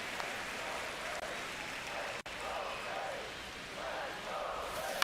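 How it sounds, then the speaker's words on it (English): Home crowd chanting in a baseball stadium during an MLB The Show video game, a steady broad roar of many voices with rhythmic swells, continuous and fairly loud throughout. "Home crowd chanting, "Let's go Braves,""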